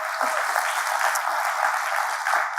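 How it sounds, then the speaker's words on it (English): Steady audience applause fills a conference hall at a Games for Change talk on the future of games, a dense, even wash of clapping lasting throughout with no voices over it. "we got time for some more applause for Jae"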